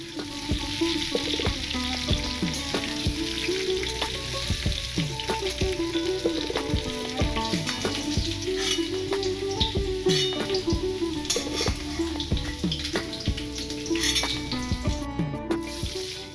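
Potato pieces frying in hot oil in a pan, a loud, steady, dense sizzle with bubbling crackle that carries on without a break and with no talk.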